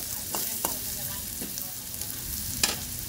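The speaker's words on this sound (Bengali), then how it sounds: "আর যে আমি অল্প কিছুক্ষণ নেড়ে চেড়ে কষিয়ে নেব। ধনে গুঁড়ো দিয়ে দিলাম" Spices with coriander powder stirred and fried on low heat in a pan, a soft steady sizzle broken by several light scraping strokes of a spatula, close and moderately quiet, no talking.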